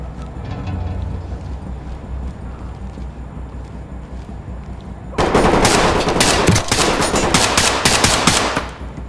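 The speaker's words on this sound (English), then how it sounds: "That shot was bollocks, man." Rapid automatic gunfire erupts loud and close in a tactical shooter game, a dense sustained volley of shots that fills the last few seconds after a quieter stretch of ambient game sound.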